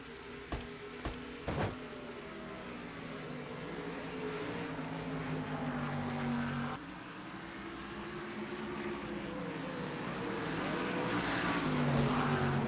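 Several race cars from a racing video game lap Watkins Glen, engines droning steadily with overlapping pitch sweeps as they pass through corners, loud and continuous with a few sharp clicks near the start.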